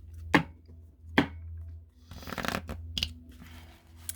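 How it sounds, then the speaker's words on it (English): Tarot cards are shuffled by hand in a few crisp riffles and slaps, with two sharp snaps early on and then a longer rustling shuffle, close and fairly quiet with no talking. "I'll do another shuffle for you"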